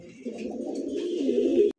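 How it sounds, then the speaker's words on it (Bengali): A pair of jet-black pigeons coo close by, a low, steady, throaty murmur running almost unbroken for nearly two seconds before cutting off. "এই মুহূর্তে দেখতে পাচ্ছেন দুইটা কবুতর, মাশাআল্লাহ একদমই কুচকুচে কালো দেখার মতো"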